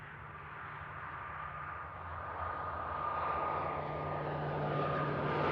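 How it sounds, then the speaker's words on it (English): An ATR 72-600 turboprop at Manchester Airport droning steadily, its engine hum growing gradually louder as it nears, with a faint high whine running through the broadband roar. "That's an ATR"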